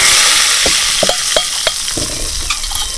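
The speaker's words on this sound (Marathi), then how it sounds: "तर आपण ह्यामध्ये ना 1 अर्धा चमचावर जिरं घेतलं तर जिरं घालूया. बघा आता चांगलंसं जिरं सुद्धा फुललेले आहे." Cumin seeds crackle in hot oil for a yogurt koshimbir salad, giving a loud, steady sizzle broken by scattered sharp pops and stirring clicks, with no talking.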